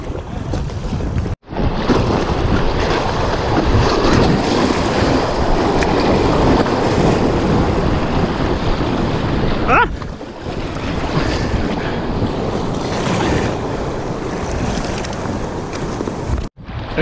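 White water rapids churning around a kayak, a loud, constant rushing and splashing roar close to the microphone, with wind buffeting and a brief break near the middle before the turbulent water noise returns.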